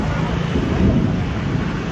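Heavy rainstorm in Shanghai with a steady, loud roar of rain and low rumbling thunder filling the whole stretch, broadband and continuous with no distinct claps.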